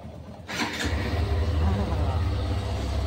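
A motorbike engine catches after a short burst of noise and settles into a low, steady idle close by, with faint voices at home.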